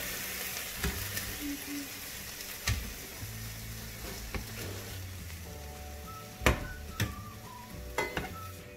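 Pieces of calf liver fry in a pan with a continuous crackling sizzle, broken by sharp utensil scrapes and clinks against the pan as they are stirred and turned, close and with no talking.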